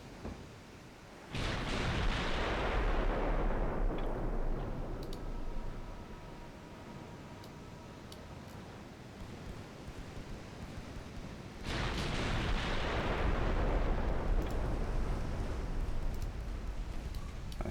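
Naval gunfire in the video game DIP v2 Legendary US Campaign, two heavy booming salvos several seconds apart, each followed by a long rumbling noisy decay that fills the soundscape, loud and alone.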